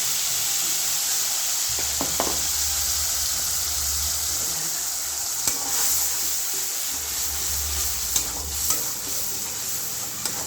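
Ground radish chutney paste, thinned with a little water, hits hot oil in a heated kadhai for tempering, giving a steady close sizzle and hiss with occasional stirring scrapes, no voices.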